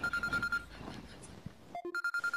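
An incoming call on a phone: a repeating electronic ringtone of short, evenly spaced beeps, broken in the middle by a rustle and a couple of tones before the ringing resumes, fairly close and clear.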